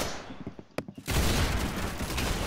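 A single gunshot in a video game strikes near the one-second mark, a sharp crack after a few soft thumps, followed by a dense, loud wash of noise that lingers to the end.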